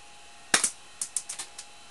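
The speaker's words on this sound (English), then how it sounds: "I'll fire at the doorknob over there." A P.816 airsoft pistol fires at a doorknob indoors: a sharp double crack, then a quick run of lighter snapping clicks, close and crisp against a quiet room with no talk.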